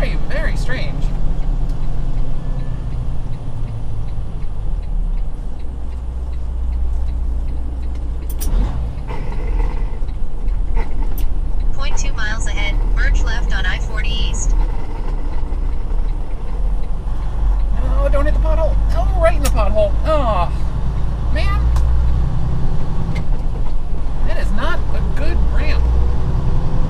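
Trucks rumble steadily past on a road near Texarkana, with a deep continuous engine drone and passing noise throughout, while people talk over it.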